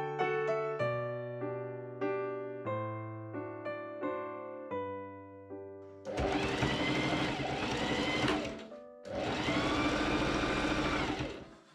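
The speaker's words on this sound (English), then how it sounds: "I machine sew the sleeve and the side seams up." A sewing machine stitches the sleeve and side seams of a sweatshirt, running in two steady bursts of a few seconds each with a short pause between, loud and close, after a stretch of soft melodic instrumental music.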